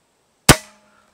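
A single sharp, close report from a Hatsan Flash Pup .22 air rifle rings out once and decays quickly into quiet.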